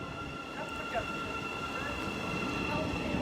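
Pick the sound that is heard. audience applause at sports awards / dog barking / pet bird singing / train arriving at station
train arriving at station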